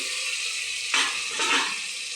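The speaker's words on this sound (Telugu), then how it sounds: "ఇదిగోటండి, ఇప్పుడు రైస్ కూడా కొంచెం ఫ్రై అయింది కదా" Washed rice fries in oil inside a pressure cooker, giving a steady close hiss and sizzle, swelling briefly twice as the grains are stirred; no one speaks.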